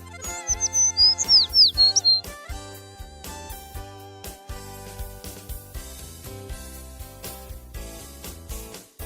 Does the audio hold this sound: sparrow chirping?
yes